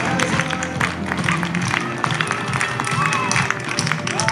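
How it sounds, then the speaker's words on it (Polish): An audience at an outdoor horse show jumping competition applauds steadily, dense clapping mixed with crowd murmur and a voice talking over it throughout. "Wielkie brawa!"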